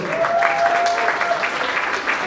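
An audience claps for a music composer, a short burst of dense, steady applause close by, with a voice briefly heard over it.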